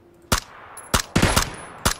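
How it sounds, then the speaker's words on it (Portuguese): Gunshots in the PUBG Battlegrounds video game: four or five sharp, loud cracks at uneven intervals, two of them coming close together, over a faint background hum. "tô tomando tiro"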